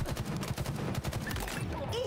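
Gunfire in the online shooter Halo Infinite rattles in rapid, steady bursts at moderate loudness, filling the whole short stretch.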